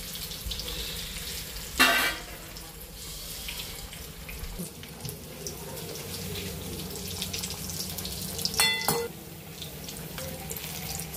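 Bread pakoda deep-frying in oil on a medium-high flame, giving a steady bubbling hiss throughout with two brief louder splashes of sizzle as pieces are turned.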